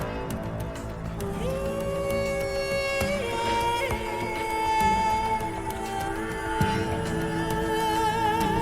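A virtual instrument demo blends Ethera Gold Sahara Voices legato with a phrase library: sustained sung female vocal lines glide between held notes over a music bed, with no talking.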